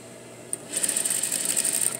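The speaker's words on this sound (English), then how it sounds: "we're gonna do a edge stitch on the edge right here. That's hemming it, we're gonna hem it." Sewing machine edge stitching the hem of a jeans front pocket, a brief click and then a quick, even run of rapid stitching with a bright mechanical whine, close and alone.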